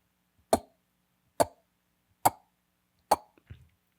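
Person imitating a dog vomiting: four short, sharp retching heaves at an even pace, close and isolated in silence, ending with a softer gulping sound.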